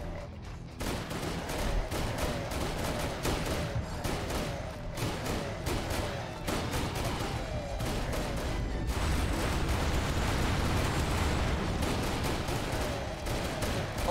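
Gunfire in Serious Sam VR: The Last Hope pours out as a dense, continuous fusillade of rapid shots and blasts, loud and constant for the whole stretch with no pauses.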